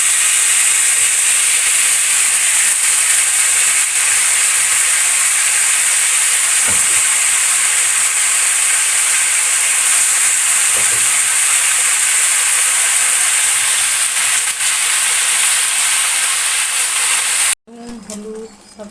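Pickle mixture seasoned with salt and turmeric sizzles in a pan with a loud, steady steamy hiss for about seventeen seconds, then stops abruptly, leaving a brief quieter tail.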